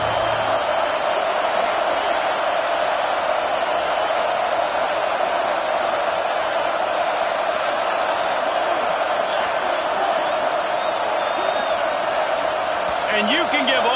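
A stadium crowd roars in an NCAA football video game, a loud, unbroken wall of noise that holds steady the whole time, with faint whoops on top.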